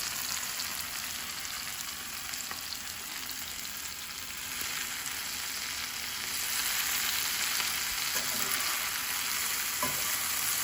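Vegetables for Korean japchae glass noodles fry in a hot pan, giving a steady, dense sizzle that holds evenly throughout and swells slightly toward the end, with a few faint stirring clicks.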